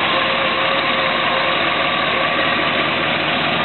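Engine of a 1956 Ford F-100 pickup running with a dense, steady, loud rumble that carries no breaks or talk from start to finish.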